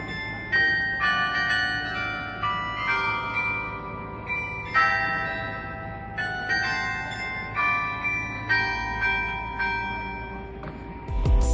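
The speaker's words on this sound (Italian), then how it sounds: "Dal 1958 la torre del municipio è stata dotata di un carillon di 45 campane che suona" A carillon of 45 bells in the Cologne city hall tower rings out a melody, with clear struck bell tones sounding in a measured sequence and long ringing decays overlapping, loud and resonant with no speech.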